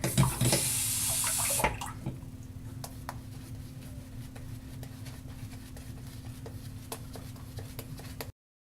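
Water runs briefly from a bathroom tap during a shave with a Palmolive shave stick, a loud gush for under two seconds that stops, followed by quiet clicks and faint handling sounds.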